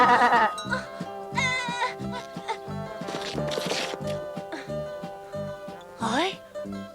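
Goats bleat repeatedly in a mountain pasture, wavering nasal cries rising and falling over several seconds, fairly close, with a cowbell-like clink and voices mixed in among the calls.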